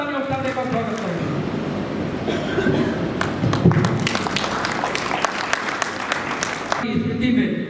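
At a journalists' honour ceremony in Gorakhpur, an audience bursts into loud, sustained clapping welcoming an honoree. The clapping swells and then fades after several seconds, with a voice on a loudspeaker at the edges.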